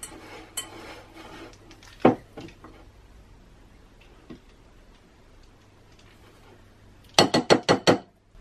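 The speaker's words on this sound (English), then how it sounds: "now we are going to scrape down the sides of our main mixing bowl" A spatula scraping down the sides of a mixing bowl of gluten-, lactose- and yeast-free mixed spice sugar cookie dough: sparse, quiet taps and scrapes, then a quick cluster of sharp clinks near the end, with no talking.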